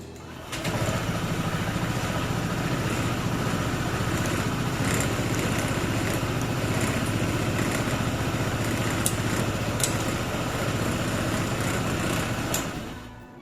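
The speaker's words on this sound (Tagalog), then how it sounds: "pa-start natin yung motor" A Honda ADV 160 scooter engine sputters to life and settles into a steady, buzzy idle, close by, with faint clicks over the running motor.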